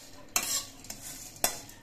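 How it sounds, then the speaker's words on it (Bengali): Fish heads coated in rice flour frying crisp in a pan are stirred with a utensil, giving two sharp scraping clacks over a soft continuous sizzle, close and alone. "মাছের মাথাগুলো নেড়ে চেড়ে আমি বেশ কড়া করে ভেজে নিয়েছি"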